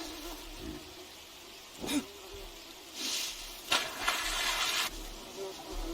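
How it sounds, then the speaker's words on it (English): Bees attack in the survival game Green Hell, heard as several short buzzing bursts and hissing swells that come and go over a quiet background, with no voices. "Getting attacked by bees there"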